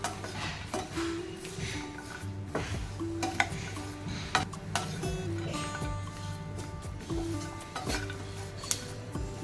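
Peanuts roasting with dry coconut and garlic in a pan over low heat for garlic chutney, stirred steadily, giving a continuous scraping and light rattling of utensil against pan with soft clinks throughout, close and moderate in level.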